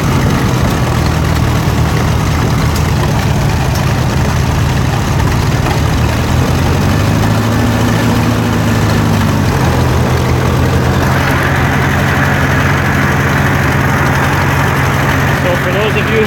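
A Case SC tractor with a center exhaust runs steadily at a low idle-like rumble during a ride toward a garage, a continuous engine drone throughout with a pitch shift partway.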